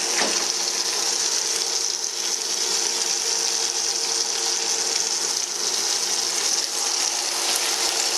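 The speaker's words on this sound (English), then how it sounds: "Our bacon is sizzling, which is good." Raw bacon strips sizzle in a frying pan, a continuous close crackling hiss that stays even throughout with no voices.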